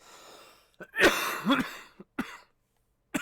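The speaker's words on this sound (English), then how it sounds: "I know you're coughing" Close coughing and throat clearing indoors: a harsh burst of coughs, then a rough throat-clearing, followed by a few short, sharp coughs separated by silence.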